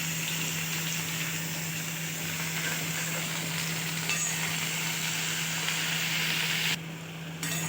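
Ivy gourd, turmeric and salt go into a pan of fried onions, giving a steady, moderate sizzle with a faint low hum beneath and no talking.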